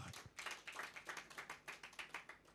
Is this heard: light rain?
no